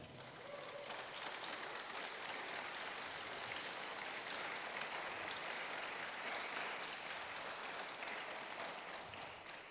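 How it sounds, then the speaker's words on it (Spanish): A church congregation applauding together, a dense, even roar of clapping that holds steady for the whole stretch with no voices standing out. "Denle un aplauso al Señor."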